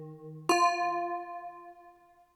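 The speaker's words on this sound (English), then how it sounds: "So I'm gonna go into my bells and find something" Synthesized bell melody in FL Studio for a summery dancehall beat: a low tone gives way to one bright struck bell note with ringing harmonics that decays slowly over about two seconds, clear and alone.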